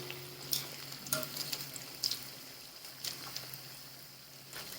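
Chillies sautéing in a pan for fasting chilli fritters, a faint steady sizzle broken by several light scraping stirs spaced about a second apart.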